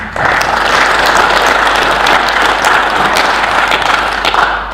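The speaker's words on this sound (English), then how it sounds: "I think that deserves a round of applause" A round of applause at a university opening assembly, loud and close, many hands clapping steadily for nearly five seconds before tapering off at the end.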